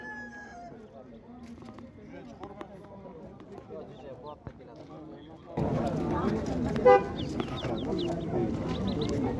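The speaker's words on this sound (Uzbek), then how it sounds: "Yosh tuxumga kirgan tovuqchalar." Young hens that have just started laying cluck at a busy poultry market, scattered clucks and squawks that grow denser and louder partway through, with people talking nearby throughout.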